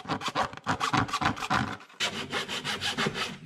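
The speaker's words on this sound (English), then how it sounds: "I'm gonna go find a file and clean this up a little bit" Hand file worked back and forth over the edge of a Kydex frame guard for a bike, about a dozen quick, rhythmic rasping strokes with a short pause midway, close and fairly loud.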